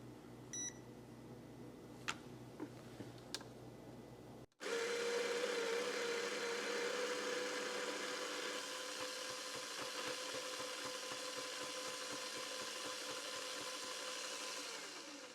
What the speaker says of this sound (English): Let's grind the beans into this.